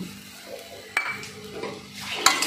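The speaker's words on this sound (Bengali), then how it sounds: "দিয়ে ভালো করে নেড়ে নিচ্ছি" A utensil scrapes and clinks in a cooking pan as salt and turmeric are stirred in, with a few sharp metallic taps over a soft background hiss, close and fairly quiet.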